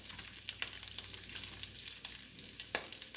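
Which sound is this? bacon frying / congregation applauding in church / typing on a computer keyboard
bacon frying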